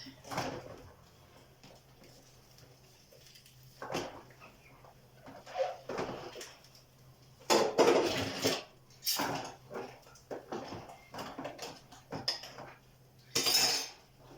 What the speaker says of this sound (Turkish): sadece bir bulaşık videosu olmasın dedim ben.